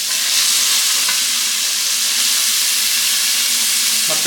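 Onion, tomato and carrot frying with dried chili in a pan for oggarane avalakki, a loud, steady close sizzle with a couple of faint utensil taps, no voices.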